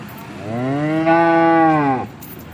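A freshly calved cow in her second lactation gives one long, loud, close moo lasting about a second and a half, with rich harmonic tone, over a quiet background.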